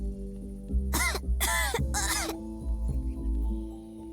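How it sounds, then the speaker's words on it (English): A woman character in a comedy graphic adventure video game coughs three times in quick succession, harsh and close, over a quiet, steady background music bed. "Miss Moore, dear, you really should get that cough looked at."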